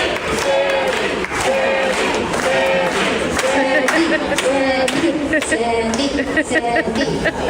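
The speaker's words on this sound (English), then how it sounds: "They are cheering my cousin's name on the largest cruise ship in the world." Played-back recording of a large audience on the world's largest cruise ship cheering a contestant's name at a competition finale, loud rhythmic chanting, clapping and crowd babble that goes on throughout.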